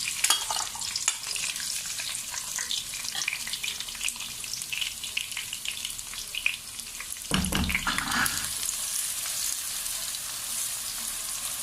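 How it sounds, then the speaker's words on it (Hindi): Browned onions fry in a kadhai with a dense, steady crackling sizzle throughout. A brief stirring scrape cuts in near the middle, and no one speaks. "अब जो पहले वाला प्याज था वो वापस डालेंगे कढ़ाई के अंदर"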